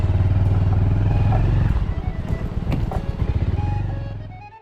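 A motorcycle engine chugs loudly and close on the ride toward a sunrise point at Tatamari, Keshkal in Chhattisgarh, steady at first, then sputtering irregularly and dying away as the bike slows and stops.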